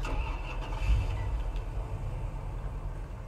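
A car engine in the video game Police Simulator: Patrol Officers, a steady low mid-range hum as the vehicle is moved, with a slight swell near the start, continuous and fairly close.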